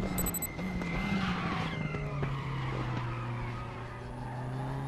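A Tatuus F4 race car in the Raceroom game at Portimao, its tires squealing and skidding over a droning engine tone that bends up and down as the car slides around the track.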